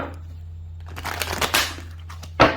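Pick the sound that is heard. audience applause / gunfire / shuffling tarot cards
shuffling tarot cards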